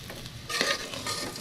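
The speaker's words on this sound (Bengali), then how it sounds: "দেখো একটু হালকা নেড়ে দিলাম" A spoon scrapes and stirs fried rice in a pan in one short pass, with a light sizzle underneath.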